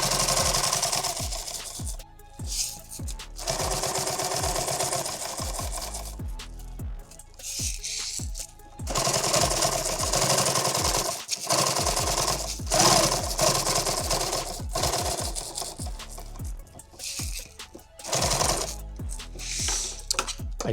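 An industrial sewing machine stitches 4-inch Velcro for a pistol magazine pack in sustained, loud bursts of rapid mechanical whirring, broken by short pauses between seams.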